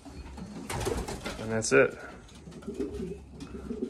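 Pet birds in a freshly cleaned coop give soft, close cooing calls while someone talks briefly over them.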